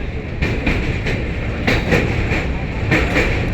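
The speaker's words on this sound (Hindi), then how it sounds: "अपनी ट्रेन ने रफ्तार पकड़ ली है यहाँ से।" A passenger train on the Prayagraj–Delhi special express runs at speed with steady rumble and rhythmic clickety-clack of wheels over rail joints, loud and close from inside the moving train.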